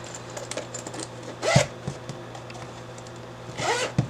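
A zipper on a handmade crafted pouch is pulled in two quick rasping bursts a couple of seconds apart, close and fairly loud over a faint steady background hum.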